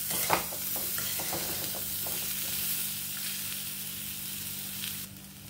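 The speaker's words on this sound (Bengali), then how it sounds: "আবার নেড়ে চেড়ে নেব" Hog plum pickle sizzles in a pan over a low gas flame while a spoon stirs it. A few scraping knocks come early over a constant frying hiss, which thins out near the end.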